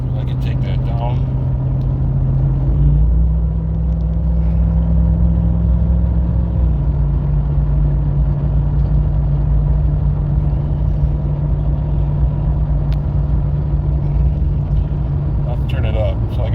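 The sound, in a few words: Ram TRX truck driving on highway with cruise control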